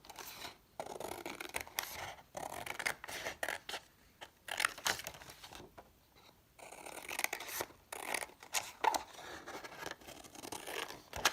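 Scissors cutting a strip of paper for a weaving craft, close and fairly quiet, with repeated snipping and crinkling bursts separated by brief pauses over several seconds.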